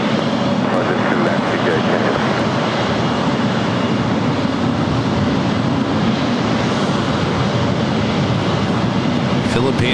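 A Boeing 777-300ER jet takes off from the south side at LAX, its engines giving a loud, continuous, broad roar that holds steady for the whole stretch.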